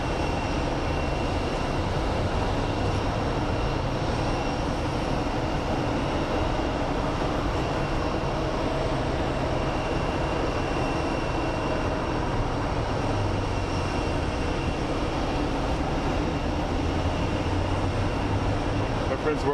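A Boeing 777 airliner at Phoenix Sky Harbor airport produces a loud, constant jet-engine roar that holds steady and unbroken throughout.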